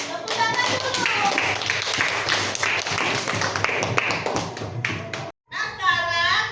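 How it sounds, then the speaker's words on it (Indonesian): A group of children clap their hands together in a steady, lively burst of taps at close range during a Quran recitation lesson, with voices talking over it before a brief pause and more chatter. "Tepuk tangan dulu."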